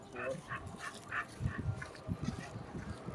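A mother dog on a road during a morning walk, giving short, faint yips and whimpering barks in an uneven run at a moderate distance, with light outdoor noise around it.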